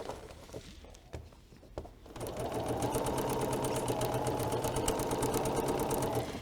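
Sewing a pieced quilt block unit, the machine whirs into a fast, even run of stitches after a few quiet handling taps, holding a loud, steady mechanical rhythm until it stops.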